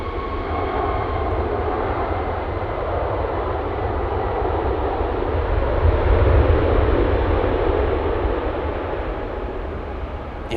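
Douglas DC-3 piston engines at Anchorage airport on a windy day, a broad steady rumbling drone that swells slightly midway, heard from a distance with no talk over it.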